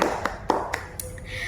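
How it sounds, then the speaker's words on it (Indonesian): Hands clapping in an online Sunday school session: about five crisp claps in a steady rhythm, close and fairly loud, ending in a quiet tail with no talk. "Yuk kita tepuk tangan dulu buat bangsa kita Indonesia"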